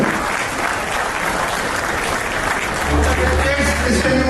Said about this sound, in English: Let's take ovations and a huge round of applause for Dr.